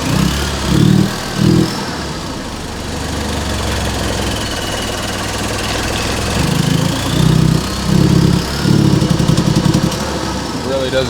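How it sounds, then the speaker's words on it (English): An engine that had overheated after a cooling system repair idles roughly and unevenly, a loud, steady close rumble with lumpy surges that come and go, while someone talks over it. "It really doesn't idle that well."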